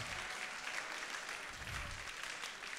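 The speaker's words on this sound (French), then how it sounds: "On l'applaudit." An audience at a regional religious assembly in Rennes claps together in a dense, continuous burst of applause, fairly loud and even throughout, with no talking over it.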